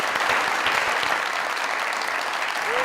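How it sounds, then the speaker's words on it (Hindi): A television comedy studio audience claps steadily, dense and loud, a continuous wash of many hands filling the whole stretch without a break. "तालियां।"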